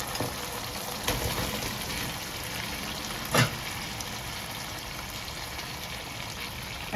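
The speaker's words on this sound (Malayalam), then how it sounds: "ഇനി നമ്മൾ നമ്മുടെ ചിക്കൻ ഇതിലോട്ട് കൊട്ടാം" Chicken pieces dropped into hot sauce in a pan for chicken fry set up a steady, close sizzle of frying that runs throughout, with one brief louder splash or clatter partway through.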